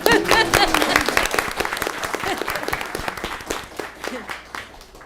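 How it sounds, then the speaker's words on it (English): At a Garden Grove city council meeting, a burst of applause breaks out, with sharp individual claps loud at first and thinning gradually over several seconds, a voice or two briefly mixed in. "I'm clapping for you."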